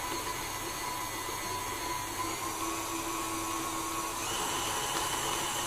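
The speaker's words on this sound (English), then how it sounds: "I'm just going to keep whisking that round now so that goes nice and fluffy" Steady, even whirr of an electric mixer whisking three eggs at high speed for a gluten-free chocolate coffee cake, constant and moderately quiet with no talking.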